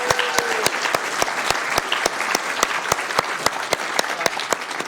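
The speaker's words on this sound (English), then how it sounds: "Let's give her a big round of applause." A room at a Sacramento city council meeting breaks into applause, a full sustained round of crowd clapping with some sharp individual claps standing out, with no speech over it.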